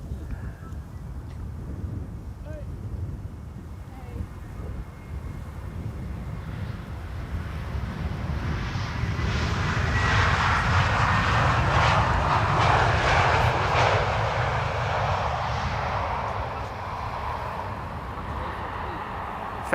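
KLM's first Airbus A321, PH-AXA, lands at Amsterdam Schiphol in sunny, crosswindy weather; a faint distant jet whine grows into a louder roar that peaks around the middle and then slowly eases, with light wind noise.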